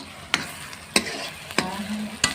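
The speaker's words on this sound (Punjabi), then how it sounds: "ਇਹ ਤੜਕੇ ਨੂੰ ਹਲਾਉਂਦੇ ਰਵਾਂਗੇ ਆਪਾਂ ਲਸਣ ਵੀ ਪਾਇਆ" A garlic tadka frying in a pan and stirred in four sharp, evenly spaced scrapes over a soft continuous sizzle, close up with no one speaking.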